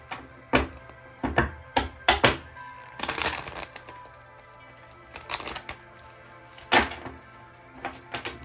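Tarot cards are shuffled in several sharp riffling bursts, close and crisp, with brief pauses between the shuffles and quieter handling in the gaps.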